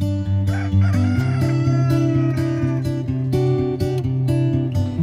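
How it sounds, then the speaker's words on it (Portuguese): Black-shanked free-range hens on a farm in Piauí, Brazil, cluck busily and continuously while a rooster crows loudly nearby, the flock sounding close and dense with no speech. "Essas são galinhas caipira canela preta."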